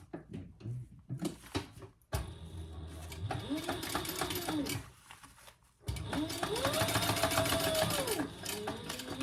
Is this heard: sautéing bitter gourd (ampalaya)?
no